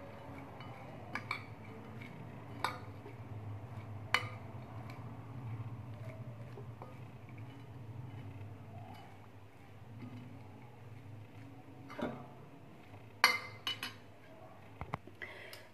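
Shredded cabbage being mixed with mayonnaise in a bowl, with soft scraping and irregular clinks of a spoon against the dish, a few sharper knocks near the end.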